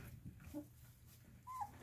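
Five-week-old puppies whimper softly in short, faint, high whines against a quiet room, with a couple of brief yips spaced apart.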